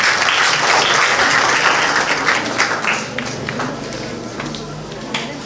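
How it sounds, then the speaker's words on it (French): Students and guests at a school cultural day in a French-speaking setting applaud, a loud, dense roar of many hands clapping that continues steadily and then slowly tapers off. "Applaudissez pour vous-même."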